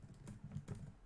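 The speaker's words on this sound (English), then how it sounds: "why am I typing that out?" Quiet computer keyboard typing, a short burst of a few soft keystrokes in an irregular rhythm, recorded close up.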